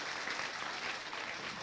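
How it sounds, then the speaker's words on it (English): A conference audience applauds two distinguished speakers at the end of an academic session, with steady, even clapping sustained throughout at a moderate distance and no voices breaking through. "Please give applause to both of our distinguished speakers"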